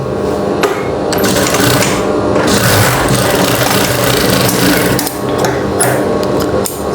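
A sewing machine stitches a blouse with a loud, steady mechanical whir and rapid needle clatter, pausing briefly near the start and again partway through.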